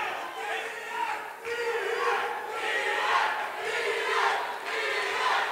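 A boxing crowd in Tijuana roars steadily for fighter Diaz, a dense wash of cheering and shouting with several swelling surges, no clear commentary on top.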